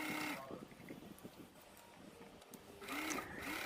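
A sewing machine stitches cut blouse pieces together in a steady mechanical whir that stops briefly midway and then resumes, close and moderately loud.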